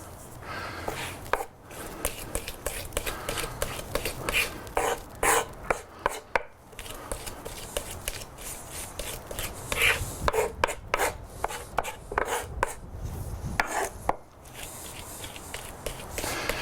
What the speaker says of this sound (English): You can see we're just making a garlic paste.